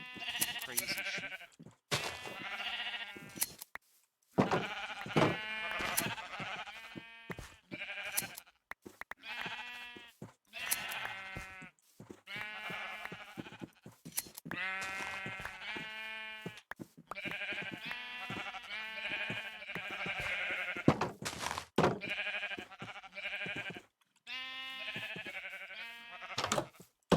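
Sheep in the video game Minecraft Feed The Beast bleat repeatedly: a long run of nasal, wavering baas that follow one another closely, some overlapping, at fairly close range with no talking.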